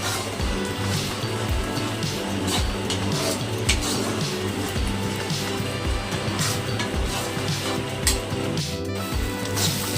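Taro (kochu) paste fries in a pan under a soft sizzle, with regular rhythmic scraping strokes of a spatula against the metal running throughout.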